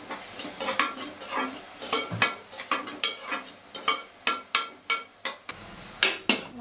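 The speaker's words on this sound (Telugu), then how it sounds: "ఉల్లిపాయలు వేస్తున్నాను" Onions dropped into hot oil with garlic for a Telugu dondakaya (ivy gourd) curry, stirred in the pan: continuous sizzling broken by repeated sharp clinks and scrapes of the spoon against the pan, close and fairly loud, no talk.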